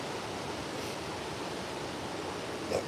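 A wilderness waterfall rushes in the early morning, a steady broadband roar of falling water that stays even and unbroken throughout, with only a tiny brief sound near the end.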